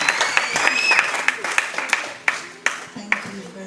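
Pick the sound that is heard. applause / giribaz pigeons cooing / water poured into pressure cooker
applause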